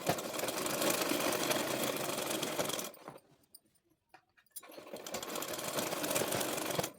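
A sewing machine stitches palazzo pant fabric in two steady, close runs of fast mechanical whirring, with a short near-silent pause in between before the motor starts again.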